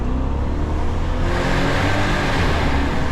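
A 1996 Mercedes CL500 with a 320 hp V8 accelerates hard on kickdown, a loud continuous engine roar rising in intensity and heard alone from inside the car.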